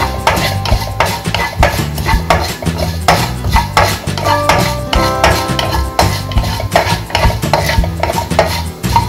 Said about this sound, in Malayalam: പൊടിച്ചെടുത്ത സേമിയ ഒന്ന് ബ്രൗൺ കളർ ആക്കി എടുക്കണം